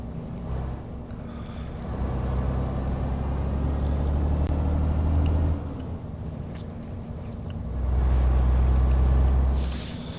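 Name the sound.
Renault Premium truck engine and air brake sound in a trucking video game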